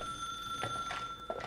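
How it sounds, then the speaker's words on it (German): A telephone rings inside the hotel in the video game The Suicide of Rachel Foster, a steady electronic ring tone sounding over quiet ambience, with brief soft clicks and no talking. "Telefon."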